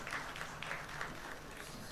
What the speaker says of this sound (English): Requesting everyone to please clap for sir.